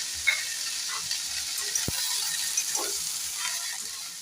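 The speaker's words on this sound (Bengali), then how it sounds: "এবার এটাকে আমি ভালো করে একটুখানি ফ্রাই করে নেব" Noodles for noodles bhel fry in a pan with a steady close sizzle, punctuated by stirring scrapes and one sharp tap of a utensil against the metal.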